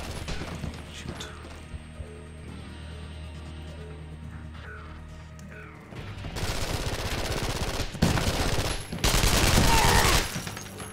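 Rapid automatic gunfire in the video game Terrorist Takedown 2 rattles loudly in dense bursts over game music and effects, growing heavier and harsher in the second half.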